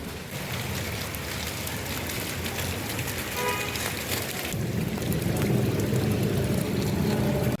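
Rain falls outdoors in a dense, steady hiss across the whole stretch, getting slightly heavier and coarser partway through, with no voices.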